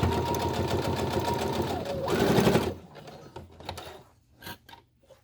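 A sewing machine runs a fast continuous stitch through a medical face mask for about two and a half seconds, then stops, leaving a few faint clicks and handling noises.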